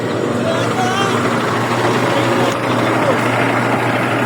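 A broken-down car's engine starts and runs at a steady idle, loud and close, a continuous rumbling drone with a brief dip midway; no clear speech over it.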